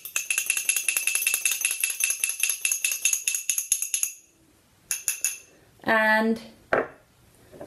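Spoon clinking rapidly against a bowl while stirring food colouring, a fast steady run of bright metallic taps that stops, followed by a few scattered clinks and a brief spoken word.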